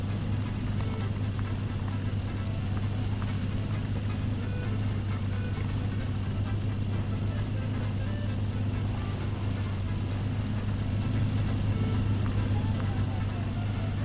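A logging truck engine in the MudRunner video game rumbles with a steady, deep, unbroken drone that holds at the same loudness the whole time, close and alone.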